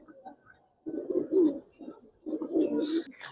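Racer pigeons coo in a loft in two short bursts of low, throaty calls, close and fairly quiet, with a brief gap between them.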